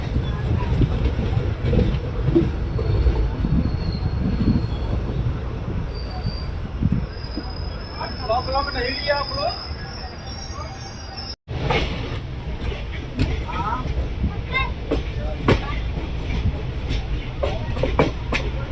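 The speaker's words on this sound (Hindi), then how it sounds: "ट्रेन खुल चुकी है खुदीराम बोस पूसा से।" The Maurya Express pulls out of Pusa station, its wheels clattering loud and close over the rails with rhythmic clicks and brief metallic squeals, while voices are heard.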